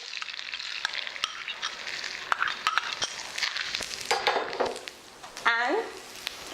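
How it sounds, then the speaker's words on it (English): Grated coconut frying in ghee, the clarified butter, hisses steadily in a pan, with a spoon scraping and clinking against the metal and a brief louder stir near the end. "add a little bit of ghee, which is the clarified butter. To that, we are going to add the grated coconut."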